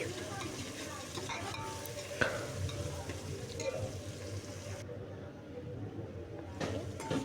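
Halved green chilies and curry leaves sizzle in hot oil in a pan while being stirred for tomato rice, a steady close crackle with a few sharp scrapes and clicks of the spoon.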